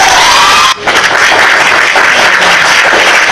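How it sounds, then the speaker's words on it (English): A crowd clapping and cheering at a tribute gathering for Mohbad, a loud continuous roar of applause and shouts with a brief dip near the start. "Clap for Baba Mohbad."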